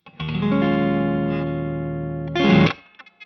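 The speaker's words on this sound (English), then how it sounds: "So it's a nice sounding spring reverb" A guitar chord rings through a Two Rock Classic Reverb Signature amp with subtle spring reverb, sustaining evenly for about two seconds before a brighter, louder strum that cuts off sharply, leaving a faint reverb tail.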